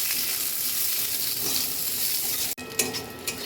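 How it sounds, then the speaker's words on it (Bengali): Large-cut onions sauté in a little oil in a pan for masala okra, a continuous close sizzle that breaks off abruptly near the end, followed by a few light stirring clinks. "এবার ওই তেলে যে একটু সামান্য তেল আছে ওর মধ্যে আমি এই পেঁয়াজগুলো একটু সতে করে নেবো।"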